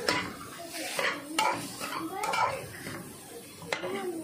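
Boiled potato and masala with garam masala, asafoetida and salt being mixed in a pan, with repeated spoon scrapes and metallic clinks close by.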